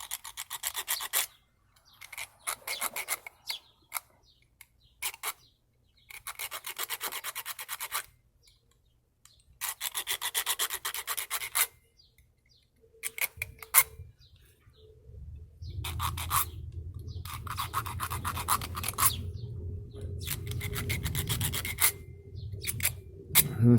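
A hand file rasps back and forth across an amulet art project in repeated bursts of strokes with short pauses between them; a low rumbling background comes in during the latter part.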